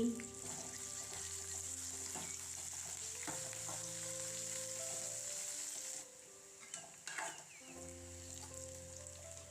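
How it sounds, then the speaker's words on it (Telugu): Lengthwise-sliced onions and two sprigs of curry leaves sizzle in hot oil for a tempering with dried red chillies for pithakapappu charu, a steady close frying hiss with stirring that briefly quiets partway through. "పొడుగ్గా కట్ చేసిన ఎరగడ్లు రెండు రెమ్మల కరివేపాకు వేసుకుని ఫ్రై చేసుకోవాలండి"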